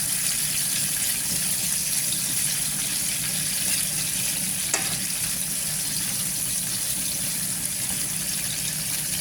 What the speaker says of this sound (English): I'm gonna let the onion caramelize a bit before I add the mushrooms and the peppers